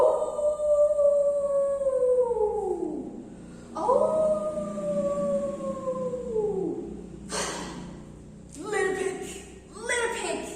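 A voice imitates a wolf howling during a spoken telling of the three little pigs story, with long falling howls repeated several times, close and loud, alongside breathy gasps and talk.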